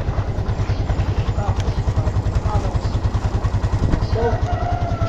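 A motorcycle engine runs close by with a steady, rapid putter while people work hauling chairs, the rhythmic chugging continuing throughout with faint voices and clatter mixed in.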